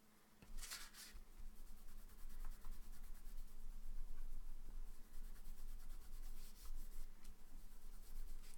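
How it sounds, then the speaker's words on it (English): Steady close-up rubbing of a painted ombre surface, a continuous dry abrasive scrape like sanding that runs on evenly with no talk. "Just rub that down now."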